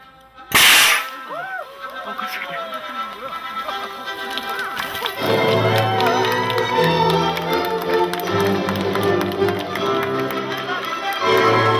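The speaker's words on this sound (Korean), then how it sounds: "네 박수 부탁드립니다" Wedding guests clap for the bride and groom at a lighthearted wedding, a dense spread of hand claps running under a loud burst and lively background music, with occasional voices mixed in.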